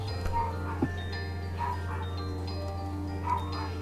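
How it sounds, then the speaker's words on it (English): Dog barking nearby, a few short yips and barks breaking over a steady low hum. "I'm sorry about the barking"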